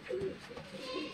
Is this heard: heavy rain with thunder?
no